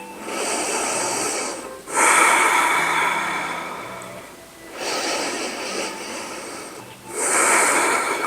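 Steady, audible breaths during a floor-based hip stretch routine: four long airy exhale-and-inhale swells, each about two seconds, with short pauses between them, close to the microphone and not masked by any talk.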